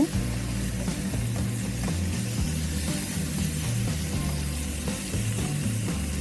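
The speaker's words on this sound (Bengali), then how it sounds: "যেহেতু লবণ দেওয়া হয় নাই এখন বেগুন দিয়েও একটু কষিয়ে নিব" Eggplant stir-fried in a pan, with a steady low sizzle and scraping stirs going on throughout, close and fairly loud, with no talking.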